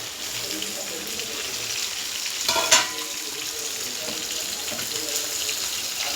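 Fish pieces sizzling in a pan while cooking fish biryani, a steady crackling fry with a brief clatter of utensil or stirring partway through.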